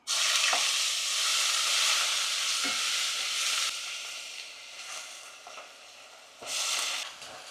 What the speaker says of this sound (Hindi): उसके बाद आपको इसके अंदर ये जो प्याज हमने ग्राइंड करी थी वो डालना है।